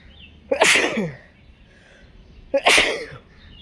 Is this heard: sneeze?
yes